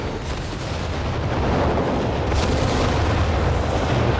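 Artillery shell explosions in the Company of Heroes 3 strategy game, a dense, continuous roar of booms and blasts layered together at high, steady loudness, with a brighter burst midway and no speech.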